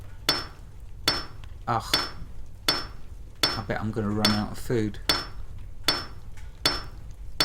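A hammer strikes an iron bloom at a forge in the video game Salem. Sharp, ringing metallic clanks repeat at an even pace of roughly one per second, and a voice speaks briefly midway.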